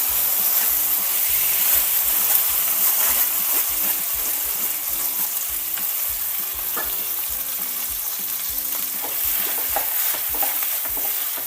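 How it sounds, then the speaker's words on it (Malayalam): Cooked chana dal dropped into hot ghee in a pan on a gas stove and stirred, a steady close sizzle with repeated scraping strokes running throughout. "ചൂടായി ഗ്യാസ് ഓൺ ചെയ്തിട്ടുണ്ട് അതിലേക്ക് നമ്മുടെ കടലപ്പരിപ്പ് വേവിച്ചു വെച്ചത് ഇട്ട് കൊടുക്കാം"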